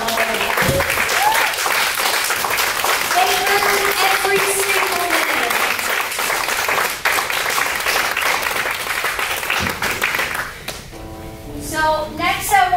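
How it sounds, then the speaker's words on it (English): An audience at a community center graduation ceremony gives sustained applause, steady and fairly loud. A voice speaks over the clapping before it fades into a short spoken passage. "Give them one more applause."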